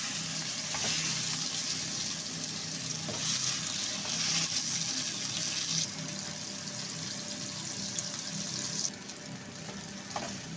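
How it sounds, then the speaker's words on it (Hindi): Chicken fries with garlic, ginger and salt in a pot, giving a constant, close, hissing sizzle with occasional stirring scrapes and brief shifts in intensity, and no talking. "अब हम इसको लहसुन अदरक और नमक के साथ अच्छे तरीके से फ्राई करेंगे।"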